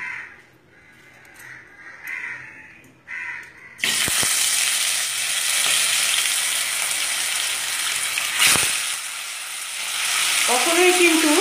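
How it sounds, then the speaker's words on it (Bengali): Rohu fish heads drop into hot oil and fry on a medium flame, breaking into a loud, steady close sizzle and crackle after a few quieter seconds. "মাঝারি ফ্লেমে করে 1-1 করে মুড়োগুলো ভেজে নেব"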